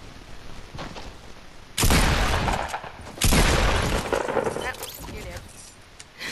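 Fortnite gunfire: two loud, sudden bursts of shots, the second starting about a second and a half after the first, heard up close under game background noise.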